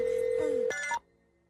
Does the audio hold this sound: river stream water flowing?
no